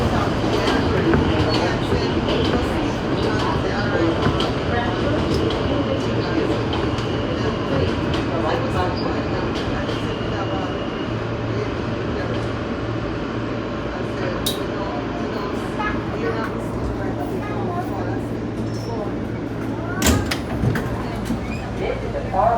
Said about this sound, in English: This is the Far Rockaway bound A train.